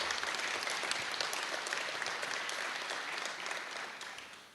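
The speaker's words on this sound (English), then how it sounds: "please, a nice round of applause to all of my colleagues here" Audience applause at a formal welcome ceremony with legislators and representatives present, a dense, steady clapping that fills the whole stretch at moderate loudness and fades slightly toward the end.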